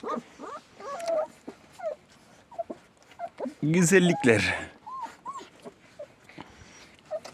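Puppies whimper and yip in high, squeaky cries, with a brief scuffling burst of louder growly yelps in the middle; a person talks briefly.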